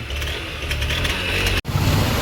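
A motorbike that had stalled on the road is started again. Its engine settles into a steady, close rumble, with one brief dropout before running on.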